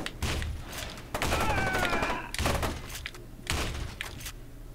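Heavy shotgun blasts in F.E.A.R. 2, several loud booming shots spaced a second or so apart amid gunfight noise, with no one talking over them.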